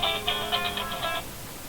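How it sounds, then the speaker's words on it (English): A phone ringing nearby in a short electronic burst of repeated chirpy tones that stops after about a second, followed by quiet. "There goes my phone."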